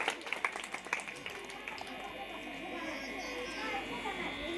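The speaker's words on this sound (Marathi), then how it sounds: "टाळ्यांचा गजर करा." Audience clapping at a school education festival lucky draw, a burst of scattered claps at the start that thins out under a steady indoor murmur and voices.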